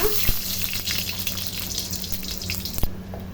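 Chicken skin frying in a pan until crunchy for a Chinese-style chicken and cauliflower dish, giving a steady close sizzle with a couple of sharp knocks.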